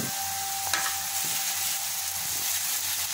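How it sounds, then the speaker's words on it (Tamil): Ginger and garlic sizzle in hot oil in a pan while being stirred, a steady close frying hiss with a few scraping stirs and clinks, no talking. "இஞ்சி பூண்டு போட்டு நல்லா பச்சை வாசனை போகிற வரைக்கும் நல்லா கிளறிக்கிடலாம்"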